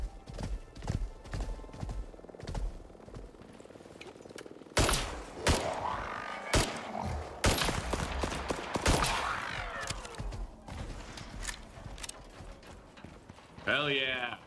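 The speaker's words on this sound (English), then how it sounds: "Gunfire, Aussie. We have gunfire." Gunfire in the video game Icarus, loud sharp bursts cutting through steady horse hoof clip-clops, while someone talks over the action.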